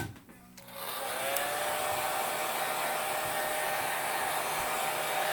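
A hair dryer switches on and blows continuously with a steady loud whir, drying paint on a board for home art.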